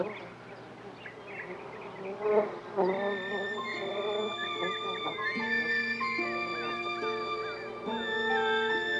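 A honeybee searching for nectar buzzes steadily with a droning, wavering hum that swells and shifts in pitch as it moves close by, over a soft background.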